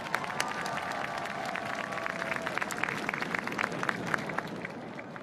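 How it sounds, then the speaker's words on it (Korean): Sustained applause from a large crowd at an outdoor national commemoration ceremony, dense and even with sharp individual claps standing out, continuing steadily throughout without speech. "다시 한번 큰 박수"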